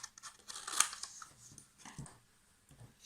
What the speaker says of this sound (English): Take the other piece and cut that in half,